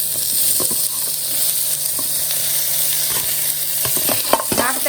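Tomatoes go into a pan of onions and curry leaves sautéing in hot oil, raising a loud, steady sizzle with scraping stirs and a few sharper spatters near the end.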